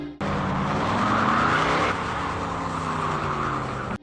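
A car accelerates hard during a film car chase, a loud, close, continuous engine roar with tire noise that holds steady for several seconds, with no talk.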